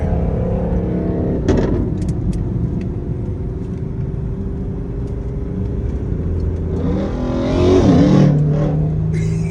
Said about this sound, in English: we're about to run this Mustang